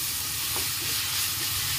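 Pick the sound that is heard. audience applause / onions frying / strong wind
onions frying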